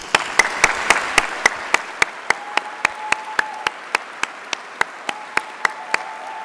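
Crowd at a pharmacy faculty graduation ceremony claps in sharp, evenly spaced, unison beats, a steady rhythmic pulse lasting several seconds with a faint tone underneath.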